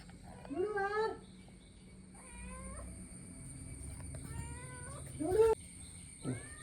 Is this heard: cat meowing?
yes